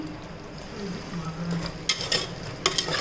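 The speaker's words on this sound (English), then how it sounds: "now fry it a little" Mutton frying in a pan for a quick mutton fry, a steady close sizzle with soft stirring scrapes and a few sharper clinks of a utensil against the pan near the end.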